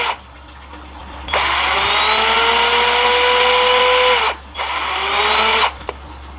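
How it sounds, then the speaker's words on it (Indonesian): A cordless drill fed by 20 V from a 20–100 Wp solar panel, drawing about 3 A, whines loudly in a long run that shifts pitch, stops briefly, then spins again before stopping. "ini cordlessnya guys, ini mata bornya"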